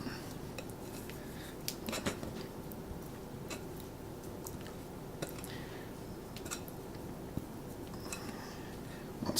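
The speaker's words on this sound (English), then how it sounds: "let's get the dough out of the bowl" No-knead bread dough is scraped out of a mixing bowl, giving soft, quiet scraping with a few light clinks of a utensil against the bowl, close up and without talk.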